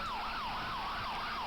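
An emergency vehicle siren wails in a steady rising-and-falling cycle at a 4th of July parade in Akron, loud and close as the vehicle passes.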